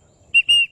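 Two quick whistled notes from a widgeon duck whistle call, a short chirp then a longer steady tone, close and clear with nothing else around.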